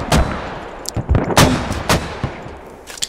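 Gunfire and explosive mortar shells in the military shooter Squad, with loud, close booms and cracks in uneven clusters, each trailing off into rumble, and no talking.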